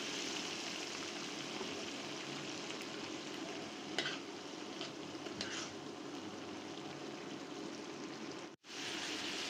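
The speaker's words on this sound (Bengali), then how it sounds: "বুট ভাজা" Chickpeas fry in mustard oil in a home kitchen pan with tomato and green chillies, giving a steady close sizzle throughout, a few light stirring scrapes near the middle, and a brief dropout toward the end.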